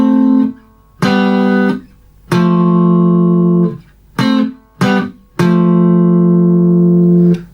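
Guitar strums the opening three chord shapes of a song, six loud sustained chords in an uneven rhythm with brief gaps between them, played alone with no talking.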